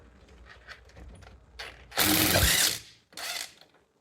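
A socket wrench ratchets on rust-encrusted bolts during front brake work on a Jeep Patriot. A long, loud clicking burst is followed by a shorter one, close by, after quieter fiddling noises.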